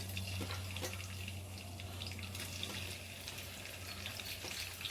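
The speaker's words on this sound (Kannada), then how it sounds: "ಎರಡರಿಂದ 3 ನಿಮಿಷ ಫ್ರೈ ಮಾಡ್ಕೊಳ್ತೀವಿ ಎಣ್ಣೆಯಲ್ಲಿ" Spices such as pepper, cloves, ginger and garlic fry with coconut in oil for a chicken liver gravy, giving a steady, soft sizzle with faint scraping and stirring throughout, no voices.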